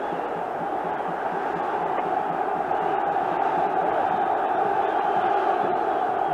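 A huge football stadium crowd at a European Cup quarter-final, Steaua București against Glasgow Rangers in 1987–88, roars in steady rhythmic unison, a dense continuous chant that fills the whole stretch with no break.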